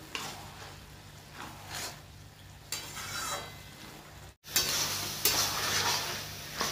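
Bottle gourd with prawns cooking in a pan, turned with a utensil over a soft sizzle, with intermittent scraping strokes, one brief silent break, and the sizzle growing louder afterward, close up and with no one speaking.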